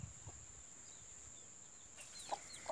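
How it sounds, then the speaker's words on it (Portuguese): A mother hen with three newly hatched chicks on a rural smallholding gives a few soft, faint clucks over a quiet outdoor background, with brief higher chirps near the end. "A galinha. Tirou três pintos só"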